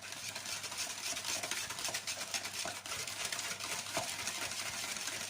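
A whisk or spoon mixes raspberry clafoutis batter in a bowl, a fast steady stirring with light clinks against the bowl, close and continuous with no voices.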